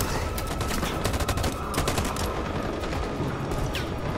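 Sustained bursts of automatic gunfire crackle loudly and densely throughout a covering-fire push in the Detroit: Become Human video game, shots overlapping with no gaps.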